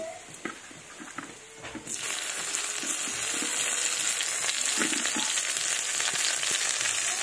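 Chopped tomato dropped into a frying Bengali fish curry: a few soft stirring knocks, then a sudden, loud, sustained sizzle that fills the rest, close and continuous, without talk.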